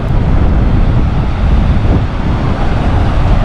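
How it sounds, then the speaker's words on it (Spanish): Strong wind roars across a beach on Fuerteventura with surf breaking nearby, a loud continuous low buffeting that fills the whole stretch, no voices. "Si hoy no hiciera tanto viento, sería 1000 veces mejor."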